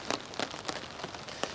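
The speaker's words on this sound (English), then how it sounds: "I'm getting hit with bits of rain." Scattered raindrops patter on a tarp over a woodland hammock camp, a few distinct close taps spread across a light steady background hiss.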